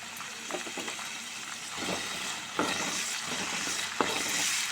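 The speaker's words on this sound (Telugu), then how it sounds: "అలాగే ఒక బ్రౌన్ కలర్ వచ్చే వరకు వేగుతూనే ఉండాలి." Dried shrimp and chickpeas fry in a pan with a steady sizzle, broken by several scraping stirs and clinks of a spoon. Nobody talks over it.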